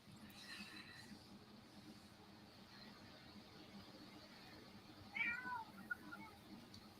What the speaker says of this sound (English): I heard her cute little meow.